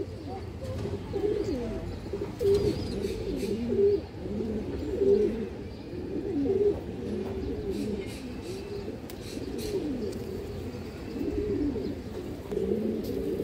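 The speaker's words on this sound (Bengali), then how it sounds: "দর্শক একটা বাঘা মাদি কবুতর পুরান লাইনের।" A female Bagha pigeon of an old pure line coos in repeated soft, throaty phrases at close range, with faint chirps and background noise around it.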